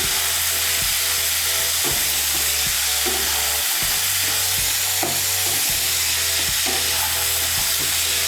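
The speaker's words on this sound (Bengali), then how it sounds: "টমেটো কুচিটাকে ভালো করে মিশিয়ে নিয়ে আমি 1 মিনিটের মতো একটু নাড়াচাড়া করে নেব" Chopped tomato is stirred into a chickpea mixture in a hot pan, with a loud, steady sizzle and repeated scraping strokes of the spoon. No one speaks.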